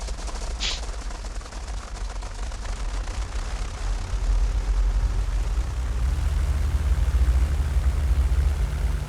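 A fighter plane's engine drones steadily in the World War II flight combat game European Air War, flying a Luftwaffe career mission, a loud continuous rumble that deepens and swells partway through, with no voices over it.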